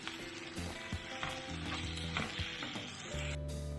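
Onions and sauerkraut frying in a pan while being stirred, a close crackling sizzle under a run of clattering scrapes and knocks from the utensil, short and busy, no talking.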